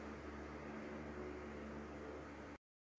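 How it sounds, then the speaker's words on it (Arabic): Ice cream ingredients with condensed milk are whipped, giving a steady, even motorised whir with a faint hum that runs unchanged and then stops abruptly. "ونبدأ بخفق جميع المكونات حتى نحصل على خليط"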